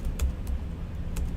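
Fingers tap a computer keyboard in a short burst of soft, irregular keystrokes, a few louder clicks among quieter taps, close and alone without speech.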